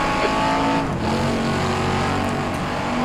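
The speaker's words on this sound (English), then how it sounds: "As we're coming up on Martin Brundle now, driving his Jaguar." A 1960s-era Jaguar racing car in rFactor 2 at Goodwood holds a loud, steady engine howl at high revs, close and continuous with no pauses, and no voices.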